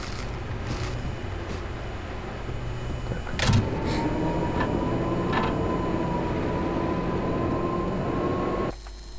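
A subway train runs through Roscoe Street station in the video game Max Payne, a steady loud rumble with a rising whine and faint clanks, continuous for about nine seconds before dropping away at the end.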